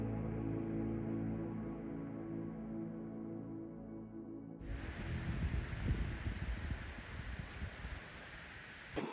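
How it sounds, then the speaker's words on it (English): Rain falls steadily outdoors. A muffled wash gives way midway to a brighter, denser patter of drops. "Got pretty cloudy this afternoon, and finally the rain's come down."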